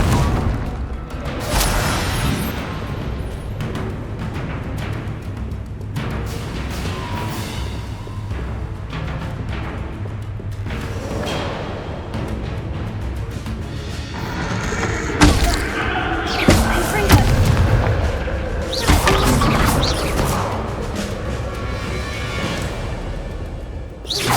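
Repeated blasting spell explosions in the Hogwarts Legacy video game, heavy booms and thuds over a dense, loud game soundscape with crashing impacts that grow busier partway through.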